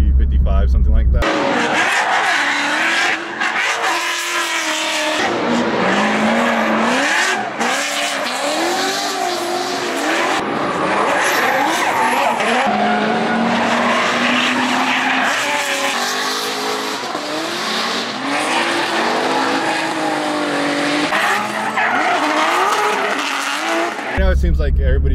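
Race cars drifting at Laguna Seca during a GRIDLIFE time attack and drifting event, with loud continuous engine roar and squealing tires throughout, and people talking underneath.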